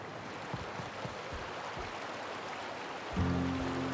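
A steady, broadband rush of falling water from a waterfall in The Outer Worlds video game fills the scene at moderate level, joined near the end by a sustained low tonal hum.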